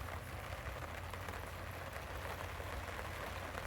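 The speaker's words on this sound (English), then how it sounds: "Just blissfully enjoying the sound of the rain on the awning." Rain patters steadily and densely on a campsite awning close by at Galveston Island State Park, an even hiss of drops with no pauses and no voices.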